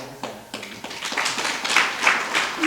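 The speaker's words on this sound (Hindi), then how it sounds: "उनका ताली बजा के स्वागत" A small audience claps to welcome guests at an informal gathering, a scattered burst of hand claps that builds and thickens into steady, moderately close applause.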